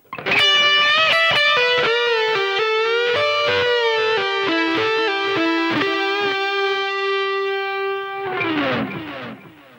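Electric guitar with an effects-laden, slightly distorted tone plays a fast solo run, a quick cascade of sustained bent and picked notes ending in a fading scrape, close and solo.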